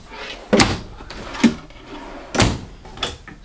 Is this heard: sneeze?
no